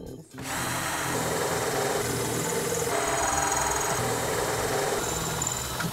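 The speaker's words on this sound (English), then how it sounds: "pull out your 17/64 drill bit" A cordless drill with a 17/64 bit bores holes for a rack install, starting after a brief pause and then whirring steadily and loudly at a constant pitch, up close for several seconds.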